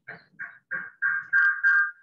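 A recorded warbler song played back through a speaker: six short, buzzy notes, rising and lengthening in a slow stepped series, clear and fairly loud against silence.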